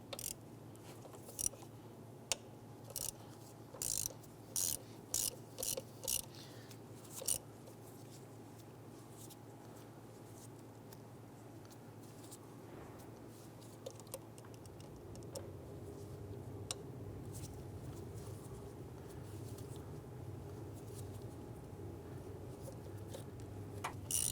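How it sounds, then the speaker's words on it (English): Ratchet with a 7mm socket loosening the four ignition coil bolts on a 1995-2001 Ford Explorer, heard as a series of close, sharp ratcheting ticks in short bursts over a steady low background hum, then quieter clicking. "Going to use our 7mm socket. Go ahead and loosen the 4 bolts holding the coil into place."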